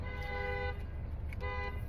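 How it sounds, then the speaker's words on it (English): Two long car horn blasts sound outside, the first lasting most of a second and the second following after a short gap, clear and sustained over a low rumbling background without speech. "And I'm sorry about the honking"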